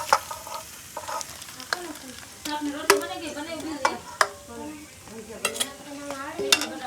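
Samosa filling being stirred in a pan, a soft frying sizzle underneath repeated clanks and scrapes of a metal spoon against the pan in an irregular rhythm.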